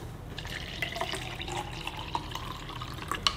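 Water trickles and splashes into an MRE orange beverage pouch in a soft, continuous pour with small drips and plastic crinkles, fairly quiet and close, no talking.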